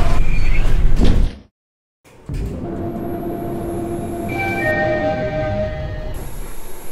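A Diamond traction elevator door at a hotel slides shut with a rumbling hiss and a brief thud, then a short silence, followed by a steady cab hum carrying faint high tones.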